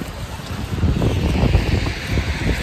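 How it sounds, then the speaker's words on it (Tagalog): Cold winter wind in Poland blows steadily against the microphone, a low rough buffeting rush with gusts that rise and fall, with no one speaking. "May kasamang hangin kaya mas malamig."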